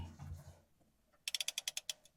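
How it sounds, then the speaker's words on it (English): A clamp is fitted onto a pipe for a hose bib, making about nine quick, crisp ratcheting clicks in an even rhythm, close and clear, after a softer fumbling rustle. "Put the clamp on, we'll kind of face it in the direction of where the pipe is coming."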